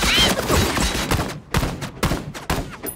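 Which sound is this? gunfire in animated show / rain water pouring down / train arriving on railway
gunfire in animated show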